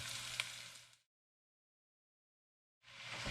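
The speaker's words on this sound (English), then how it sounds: "After adding the onions, give it a little stir around" Onions sizzle and fry loudly in a pot for rice pilao, with a sharp stir or scrape early on, then a stretch of silence before the frying sizzle returns at full strength.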